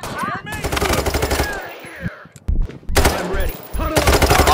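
Rapid automatic gunfire in the heist video game Payday 3, loud bursts of machine-gun fire with a short lull in the middle, while players talk over the shooting.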